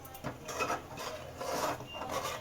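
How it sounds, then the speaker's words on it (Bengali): Sugar being stirred into milk for malai laddoo, with a spoon scraping and rasping against the pan in steady, repeating strokes. Close and fairly quiet, with no talk. "চিনিটা পুরো দিয়ে দিলাম, দিয়ে ভালো করে নাড়তে থাকবো পুরোটা যাতে মিশে যায় দুধের সঙ্গে।"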